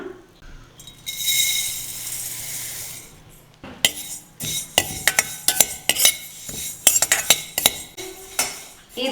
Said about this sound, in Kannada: ಒಂದು ಕಾಲು ಕಪ್ನಷ್ಟು ಬಿಳಿ ಎಳ್ಳು ತೊಗೊಂಡಿದ್ದೀನಿ ಸೊ ಇದನ್ನು ಕೂಡ ಹುರ್ಕೊಳ್ಳೋಣ